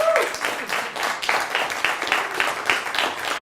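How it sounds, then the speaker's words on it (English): A live audience gives a round of applause for a volunteer on stage, steady dense clapping from many hands running for a few seconds and then cutting off sharply. "Give my friend a round of applause."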